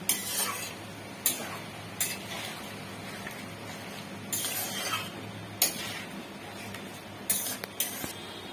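Vegetables for shukto are stirred in a pan with ghee: intermittent scraping strokes and light metallic clinks of a spatula come in irregular bursts over a soft background sizzle.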